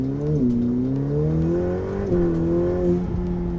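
Ferrari F8 Tributo V8 accelerating in manual mode, a loud steady engine note climbing through gear changes with brief dips between, heard from inside the car without talk.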